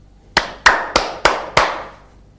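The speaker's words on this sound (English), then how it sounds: "Clap your hands." Five sharp hand claps, close and evenly spaced at a steady beat, each one crisp and alone with brief silence between.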